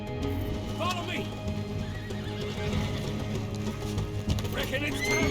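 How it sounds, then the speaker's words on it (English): Horses in the video game Red Dead Redemption II neigh and whinny in several sharp calls over clip-clopping hooves, with game sounds around them. "See the horses?"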